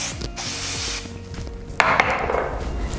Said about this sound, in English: give it a nice spray with the Los Angeles texture spray